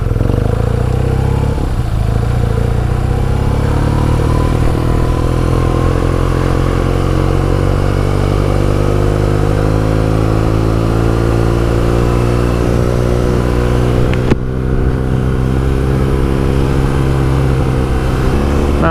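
A motorcycle engine drones loudly and steadily as its pitch gradually falls while decelerating, with wind rushing throughout and a brief clunk near the end.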